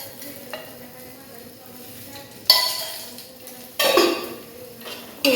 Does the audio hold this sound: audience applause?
no